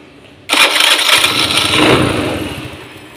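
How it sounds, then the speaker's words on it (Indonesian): A Honda Beat FA motorcycle with a faulty starter cranks and fires, a sudden loud start followed by a rough, wavering idle that fades slightly toward the end. "Jadi kalau motornya dihidupkan,"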